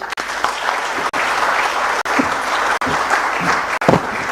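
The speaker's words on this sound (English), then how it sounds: "a bigger round of applause for Suruga" Conference audience at a water and environment week closing session applauding steadily, many hands clapping in a continuous even roar, broken by a few sharp regular clicks.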